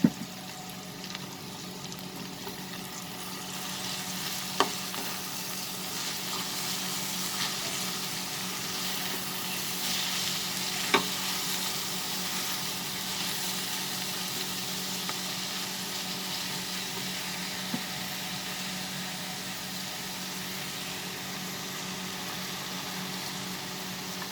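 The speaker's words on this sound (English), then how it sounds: "Now we will add the methi leaves, that is the fenugreek leaves. Add slowly." Potatoes fry in a pan as fenugreek (methi) leaves go in, a steady close sizzle and crackle of hot oil running throughout, with a few faint clicks of a utensil.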